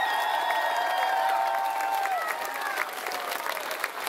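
Sustained applause from an audience at an international folklore festival, honouring a Mexican folk ballet and mariachi group, steady and dense throughout with crowd noise and some cheering, a voice briefly audible over it.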